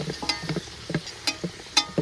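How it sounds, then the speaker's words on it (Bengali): Potatoes frying in hot mustard oil in a home kitchen, a soft sizzle under a quick series of spatula stirs and light scrapes that tick along close and fairly regular. "এবার আলুগুলো ভেজে নেব।"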